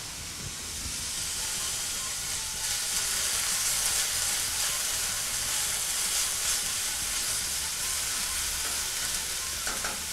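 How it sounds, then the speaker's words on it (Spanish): Onion and garlic frying in a hot pan give a loud, continuous hiss and sizzle, steady throughout with a faint clatter near the end and no talking. "Aquí ya estaba caliente la sartén, entonces vamos a agregar cebolla y ajo."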